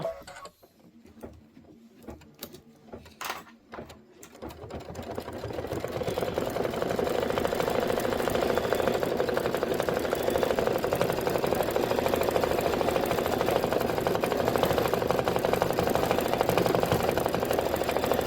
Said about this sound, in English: This is going to be 2 minutes of stitching.